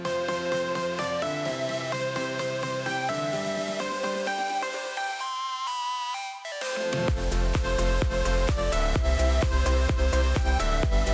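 A progressive house passage plays a melodic lead, then a sweeping reversed piano swell with a filtered fill. It lands on a loud section with punchy rhythmic hits and bass.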